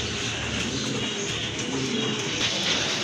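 A pair of Rajgolla fancy pigeons coo softly and steadily over a dense, hissy background, with no voices.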